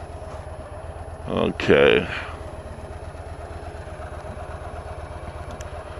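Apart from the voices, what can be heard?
Harley motorcycle engine while backing out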